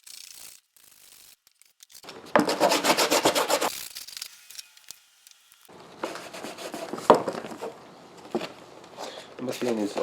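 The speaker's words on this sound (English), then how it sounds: "we're going to clean this out with our steel brush and rub it down with some alcohol" Steel wire brush scrubbing old fabric residue off a VW Jetta door panel: two bursts of harsh, rasping strokes close to the mic, the second longer and more rhythmic, with brief quiet gaps between.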